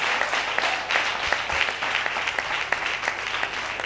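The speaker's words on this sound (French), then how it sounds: "Applaudissez pour elle, s'il vous plaît." Audience applause at a memorial tribute ceremony for a cantor, a steady, dense clapping from a crowd sustained throughout without any talking.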